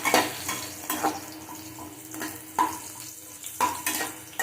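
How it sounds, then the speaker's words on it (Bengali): Potatoes fry in a pan for a Bengali banana-flower dish, a low continuous sizzle punctuated by five or six sharp spatula scrapes and stirs at uneven intervals. "আলুগুলো ভেজে দেব আমি"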